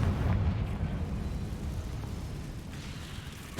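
A Confringo spell explosion in the Hogwarts Legacy game, a deep rumbling blast that hits at the start and then fades into a low rolling decay.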